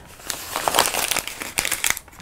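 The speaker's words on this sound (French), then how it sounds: "froisser cette feuille de papier." A sheet of paper being crumpled by hand, a close, dry crinkling that comes in irregular bursts of crackles for about two seconds with no voice over it.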